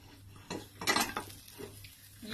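Boiled rice being scooped out of a pan while making homemade chicken fried rice, metal utensils clinking and scraping against the pot, with a brief louder clatter in the middle and no talking.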